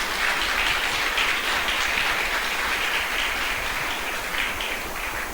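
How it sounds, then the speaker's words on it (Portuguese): A church congregation applauds during a worship service: continuous, evenly sustained clapping from many people, soft and diffuse like rain on a surface, with no talking. "Você pode aplaudir o Senhor?"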